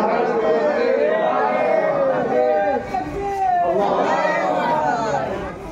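Large crowd at an Islamic religious gathering raising a loud collective takbir chant, a dense sustained roar of many voices filling the whole stretch with a brief dip midway.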